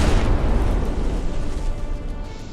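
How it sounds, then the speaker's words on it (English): A ship's front turret in the naval video game Dread Not fires a cannon volley: a loud, close blast that starts at once and then decays into a long rolling rumble. "shot off front turret, and the rear one I think will follow"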